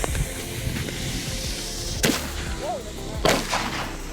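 Small consumer firework cake, a nine-shot mini cake, firing two loud sharp bursts about a second apart over steady outdoor background noise, with a faint whistling trace between them.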